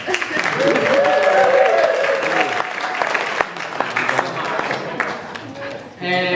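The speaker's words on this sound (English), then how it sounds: "Give yourselves a big round of applause." Sustained applause from a wedding crowd during a best man speech, dense and steady, with voices mixed in and a brief lull near the end before it swells again.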